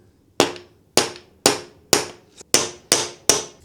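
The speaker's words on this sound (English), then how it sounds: "And then you just hammer it in." Seven sharp metallic hammer strikes drive ball bearings into the heads of Allen key bolts on a HIPLOK motorcycle lock, evenly spaced, close and loud, each ringing briefly before the next blow.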